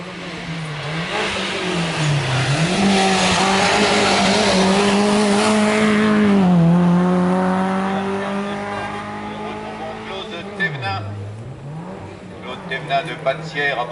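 A 1987 Peugeot 205 GTI in strictly original condition accelerates up a historic hill climb. The engine climbs loudly through the revs with gear-change dips, swells as it passes close, then fades into the distance.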